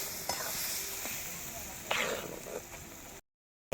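Spiced ground chana dal paste dropped into hot oil and frying, a broad steady hiss with a few sharper bursts and stirring scrapes, close by, ending abruptly in silence.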